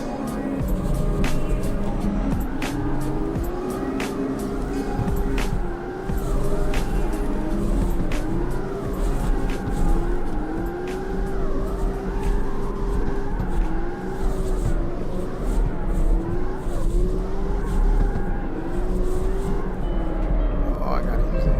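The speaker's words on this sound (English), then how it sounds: "I just got to start drifting these back roads here to get used to these." Engine revving and tire squeal from a car drifting along back roads in the CarX Street racing game, with rising and falling engine tones running continuously and loud throughout, under steady commentary.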